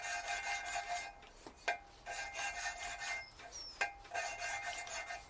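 Rhythmic abrasive grinding from a Triumph TR7 engine rebuild, repeated scraping strokes in short bursts with brief pauses, fairly quiet and close, no voices.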